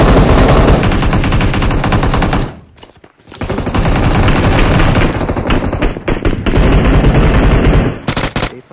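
Loud, sustained automatic gunfire in the mobile battle-royale game PUBG Mobile, rapid rattling bursts filling the clip with a brief pause near the three-second mark before firing resumes.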